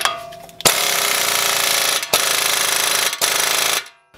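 Pneumatic impact wrench hammering loudly on the large driveshaft nut of a Volkswagen Passat 1.9 TDI, in three long sustained rattling bursts separated by brief pauses, close and alone.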